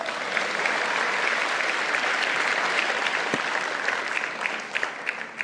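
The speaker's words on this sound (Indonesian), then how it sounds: "Tepuk tangan dulu dong." An audience at a political party leader's inaugural speech in Indonesia claps in sustained, dense applause that fills the whole stretch, steady and fairly loud with no talk over it.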